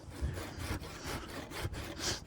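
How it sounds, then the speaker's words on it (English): A saw cuts gently through a wet log for a Swedish torch, outdoors in the rain, with short, soft, rhythmic strokes in an even back-and-forth pattern, close but quiet. "I'm really only sawing this very gently because of the risk of it slipping"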